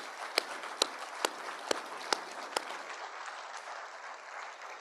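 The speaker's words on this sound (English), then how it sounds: "Please let's give Rick and Bobby a round of applause." An audience at a university Black History Month celebration gives a few sharp, separate hand claps, about one every half second, and these fade into a soft, thin spread of clapping.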